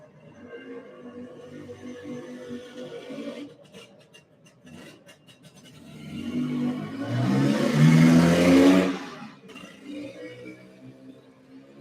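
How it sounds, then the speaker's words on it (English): A Vespa scooter with pipes coming out the side runs nearby, its engine swelling into a louder, rising rev in the middle before settling back to a lower idle-like drone. "Listen to it. It's a Vespa."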